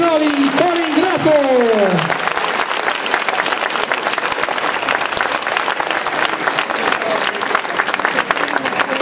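Loud, dense applause from a concert audience for a performance of a song fills the whole stretch as a steady roar of clapping, with a voice speaking over the opening two seconds.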